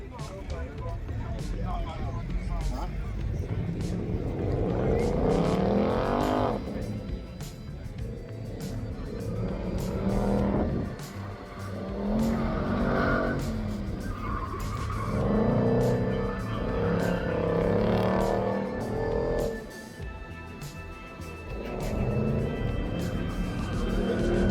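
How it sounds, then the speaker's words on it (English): High-performance cars, including what looks like a BMW M5 and a Mustang, drive around a track at a car meet, engines droning and revving with occasional tire squeal, loud and continuous beneath talking. "like an experience with cars driving around the track"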